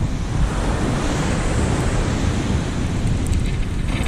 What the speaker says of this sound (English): the waves are coming up to it now